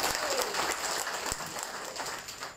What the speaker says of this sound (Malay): Satu tepukan untuk Bosku.